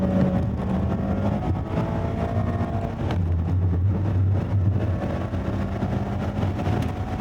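Mazda MX-5 Miata ND3 lapping a race track, a continuous loud engine and road drone heard from inside the car, with shifting pitch as it accelerates and slows.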